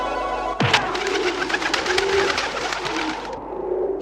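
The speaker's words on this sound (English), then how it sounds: "the magic medallion forms pigeons which are punched into existence" Pigeons coo in the PS1 video game Legend of Mulan, a steady layer of bird calls that begins with a sharp onset and runs continuously without talk.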